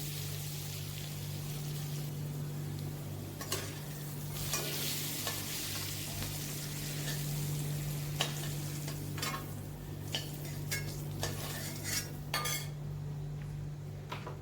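Potatoes fry in oil in a pan, a steady close sizzle with repeated spatula scrapes and light metallic clinks throughout, with no talking and a faint steady hum underneath.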